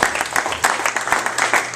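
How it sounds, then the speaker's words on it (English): A small audience at a comedy night in a bakery cafe claps in sparse, uneven bursts, with a few individual hand claps standing out close and clear. "Let's all clap."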